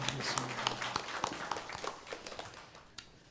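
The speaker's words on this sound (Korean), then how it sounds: "하나님께 영광의 박수를 올리겠습니다" A Korean church congregation applauds during a Sunday worship service, with scattered, uneven claps that come close and fairly loud at first, thin out, and then a few sharp claps follow; faint voices sit underneath.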